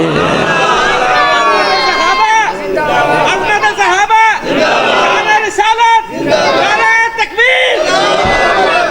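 A large crowd at a religious gathering chants slogans in loud, rhythmic, repeated calls that rise and fall in waves.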